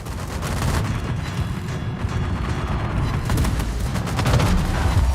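Continuous barrage of naval gunfire and explosions from a battleship video game, dense booming rumble sustained throughout with repeated heavy blasts, loud and without speech.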